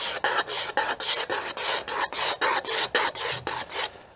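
Steel scraper rasping along the wooden limb of a handmade self bow during floor tillering, about fifteen steady back-and-forth strokes in an even rhythm, close and loud with brief gaps between passes.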